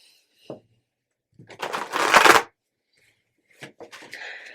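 Tarot cards being shuffled by hand, a few short riffling bursts separated by silence, with one louder, longer shuffle in the middle; close and dry.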